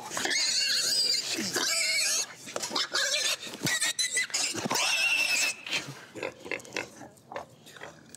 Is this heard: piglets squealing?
yes